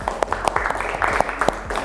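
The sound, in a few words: class applauding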